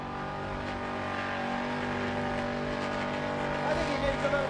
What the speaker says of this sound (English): That was a deadly burnout.